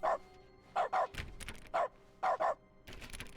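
Dog barks from the video game The Stanley Parable, in short separate bursts: a single bark, then quick doubled pairs, fairly close and clear over a steady low room hum, with a rumbling thump in the middle.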